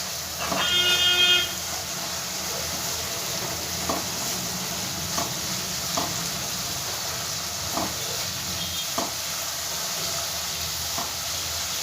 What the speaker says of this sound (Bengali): এবার ভালো করে মশলাটা আমি ভেজে নেব।